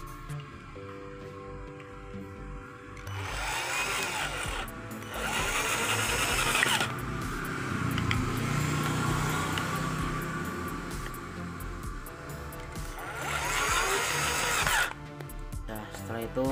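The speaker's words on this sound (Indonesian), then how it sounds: "lalu teman-teman tinggal menyekrunya dengan alat bor obeng" A power screwdriver whirs in several bursts, driving screws while mounting a CCTV camera, with rising whines, over low background talk and music.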